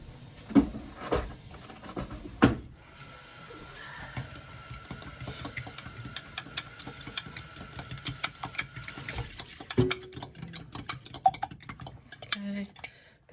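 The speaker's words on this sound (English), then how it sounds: "We're gonna mix in the egg." A spoon works an egg into 2.5 cups of whole wheat flour in a bowl, giving scattered scraping and clinking strokes of uneven rhythm, with a steady faint hum and a few sharper knocks along the way.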